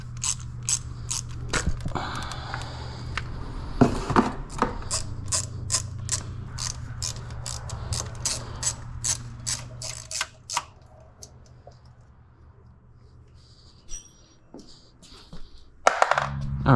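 Rapid ratchet clicks from a socket wrench loosening 10mm bolts on the fuel rail of a BMW E28 with the M30 engine, coming in repeated close bursts with short pauses between them.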